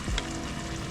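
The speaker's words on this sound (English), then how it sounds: "next we put in the chili paste" Chili paste of spring onion, ginger, garlic and fermented soybean puree hits a hot pan with a loud, brief sizzle that settles into steady frying, with no talking.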